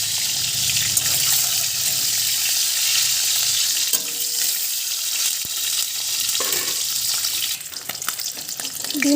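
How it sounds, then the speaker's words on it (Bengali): An egg fries in a pan with a loud, continuous sizzle close by, with some clattering and shifting noises toward the end. "তো আমি এখন ডিমটা ভেজে নেব।"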